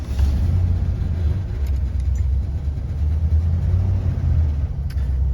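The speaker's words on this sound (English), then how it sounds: "The muffler is rattly." A 1972 Lincoln Continental with a 460 V8 runs with a rattly, worn muffler, giving a steady low rumbling drone with a faint rattling texture, heard close and without talk.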